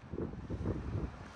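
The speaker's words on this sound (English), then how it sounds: "It is very windy here today" Wind rumbles and buffets against the microphone in low, uneven gusts beside a partly extended camper awning, with no other sounds standing out.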